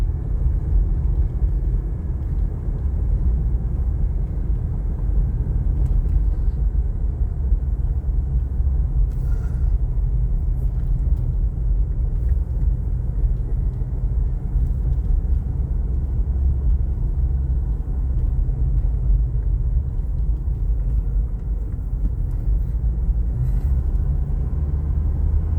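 A car labouring up a steep cross-country road in second gear, with a steady, loud low engine rumble that holds unbroken throughout.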